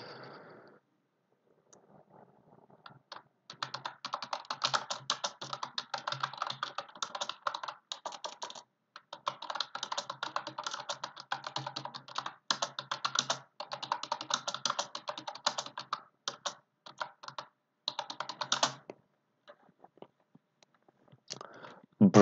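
Steady typing on a computer keyboard during a live online lesson, dense bursts of key clicks running for most of the stretch with brief pauses, close and fairly clear, no talking over it.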